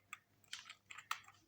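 Code is typed on a computer keyboard, a few soft, scattered key clicks in quick bursts, faint and close.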